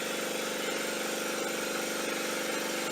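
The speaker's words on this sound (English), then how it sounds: "we operate the compressor by turning it on the top switch" An air compressor powering a cold-press juice bottle filling machine runs with a steady, loud mechanical hum and a fast even pulsing rattle, with no pauses.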